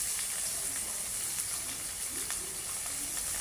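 Chopped onion and bay leaves frying in hot oil, a soft, steady sizzle and hiss that holds at a low, even level throughout.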